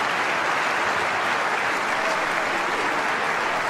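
A crowd at a tennis match applauds the two players after the final point, a loud, dense and sustained burst of clapping from many spectators, with a voice faintly audible underneath.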